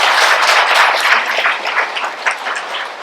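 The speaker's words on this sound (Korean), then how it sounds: "박수 한번 쳐주시고요" A church audience claps together at an overnight prayer meeting in a hall, a dense close burst of applause that fades slightly over about three seconds, with no voices.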